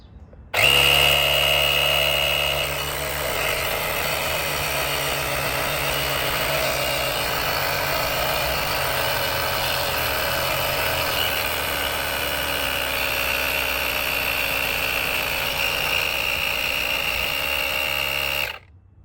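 An Auxito aJ01 portable air compressor pumps air into a car tire, a steady loud buzzing motor drone close by with a sharp start, running evenly until it cuts off, no voices over it.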